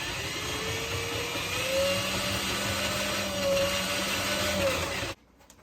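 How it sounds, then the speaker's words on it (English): Motorized drain auger running steadily as it spools cable out into a clogged kitchen sink drain, a continuous loud whirring motor drone with slight pitch wavering that cuts off abruptly near the end. "we're just going to hit this motor trigger to the motor and let this thing spool out"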